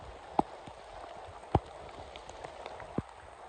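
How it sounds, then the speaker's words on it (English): Steady rain pattering on surfaces during a 50K ultra marathon trail run, a continuous wet hiss with a few sharper drop or splash hits, no talking. "I feel like the rain is getting kind of old."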